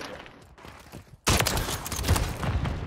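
A burst of rapid gunfire from a Kar98 in a first-person shooter video game erupts suddenly after a quieter stretch, loud and sustained with several sharp cracks.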